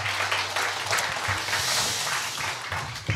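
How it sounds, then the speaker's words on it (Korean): Audience applause fills a lecture hall at the close of a philosophy forum talk, a dense, loud, sustained patter of many hands that runs steadily from start to finish. "우리 김재인 교수님께 다시 한번 큰 박수 부탁드립니다."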